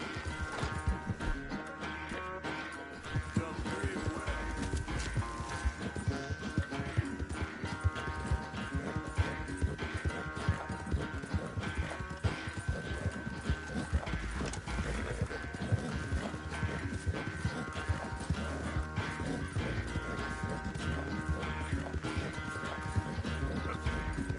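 Rhythmic hoofbeats of a horse at a gallop in Red Dead Redemption 2 pound steadily, joined by occasional whinnies, with game background sounds running underneath.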